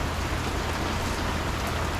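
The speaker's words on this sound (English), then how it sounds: "how rainy it is" Steady, dense rain falls on a rainy day, a constant loud hiss of drops hitting surfaces with no pauses and no voices.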